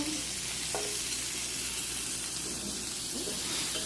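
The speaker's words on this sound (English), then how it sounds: "So now I'm gonna add the broccoli. I'm just gonna add that in." Broccoli goes into a hot pan of caramelized vegetables and sizzles steadily, a dense continuous hiss with faint stirring scrapes, close and even throughout.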